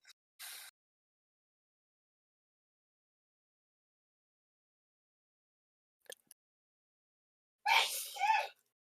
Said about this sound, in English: that was my wife sneezing